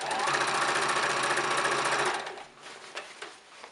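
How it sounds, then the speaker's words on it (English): A sewing machine stay stitches along the edge of a circle skirt at a quarter-inch seam allowance, running in a fast, even rattle for about two seconds before stopping, followed by a few quiet handling clicks. "I'm just stay stitching all around the edge using 1/4 inch seam allowance"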